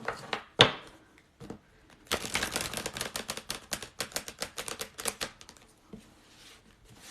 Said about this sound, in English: Let me shuffle for a sec.